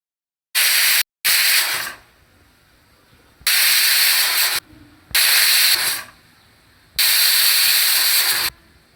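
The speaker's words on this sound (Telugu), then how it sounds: "ఇప్పుడు పొయ్యి మీద పెట్టేసి విజిల్ పెట్టి ఆరు విజిల్స్ రానివ్వండి" A pressure cooker on the stove cooking amaranth leaves lets off loud, sharp steam whistles in several bursts separated by brief quiet gaps, close by and with no voices.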